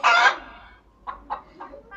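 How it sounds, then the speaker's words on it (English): A chicken clucks in a short burst of close, loud calls followed by a few softer separate clucks as it pecks at its feed. "You can see a chicken eating its food right now."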